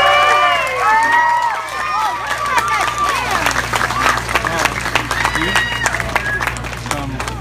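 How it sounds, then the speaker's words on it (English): Outdoor festival crowd at the Slugburger Festival in Corinth, Mississippi claps and cheers for contestants, with whoops and excited voices over a steady low music hum, fairly loud and close. "How about a round of applause for all our contestants?"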